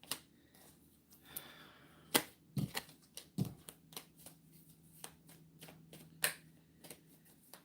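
Tarot cards being shuffled and drawn: quiet riffling and flicking, sharp card snaps and slaps at irregular intervals, close and soft with no talking.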